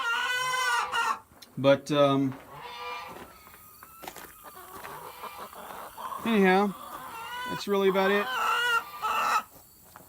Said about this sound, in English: there's the noisy hen